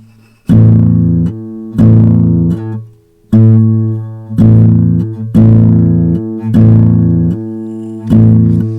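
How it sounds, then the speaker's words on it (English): A loud, low two-note guitar interval of the low E and low A played together is struck repeatedly, about seven times, each strike ringing with a deep, buzzing sustain before the next. "If we play the low E and the low A"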